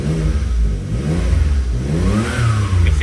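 Suzuki Jimny engine revving up close while the car runs, a steady mid-pitched drone that climbs and falls through a couple of throttle blips, loud and alone with no talk.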